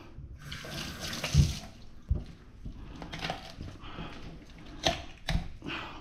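Tap water running over hands being washed after cleaning snapper, splashing unevenly into a sink with several louder bursts as the hands move under the stream.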